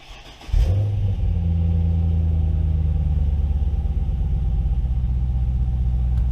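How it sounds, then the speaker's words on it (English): A first-generation 2006 Cadillac CTS-V's LS2 V8 cranks briefly and catches, then settles into a loud, deep, steady rumbling idle close by with a slight revving swell. "let's listen to that awesome LS2 engine come to life"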